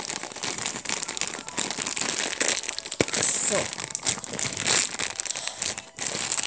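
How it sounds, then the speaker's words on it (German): Plastic bags from a Playmobil police van set crinkle and rustle as they are handled and opened, in bursts of close, crackly noise, with a brief spoken word partway through. "warte, hier sind noch ein paar Tüten."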